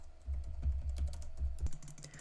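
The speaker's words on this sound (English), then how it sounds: "And as you can see, I'm pressing keys." Computer keyboard keys pressed in an uneven sequence of about eight clicks and taps, close and fairly crisp, with no talking.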